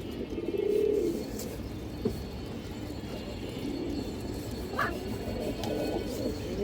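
Pigeons coo softly in a loft, one low throaty coo standing out early over a steady background of rustling and faint bird sounds.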